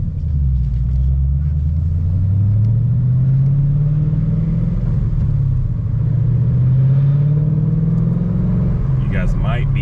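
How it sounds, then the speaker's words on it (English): A car's transmission gives off a persistent vibration while driving. It comes through as a loud, close, low droning rumble inside the cabin, with an engine tone that slowly rises and falls as speed changes. "you guys might be able to hear that vibration that I'm talking about. That is what I determined is the transmission"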